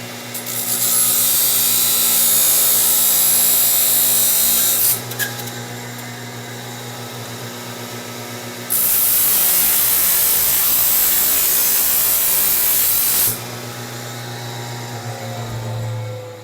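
A steel golf club shaft is cut crosswise, giving a loud, continuous abrasive grinding in long passes separated by short pauses, each pass bright and hissing, with no talking.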